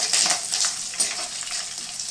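Curry leaves sizzling in hot oil, a steady bright crackle and spatter with a few sharper pops, close and alone.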